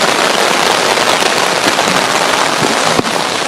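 Heavy rain falls steadily at an outdoor memorial gathering at Opoda Farm, making a dense, loud, unbroken hiss with no voices over it.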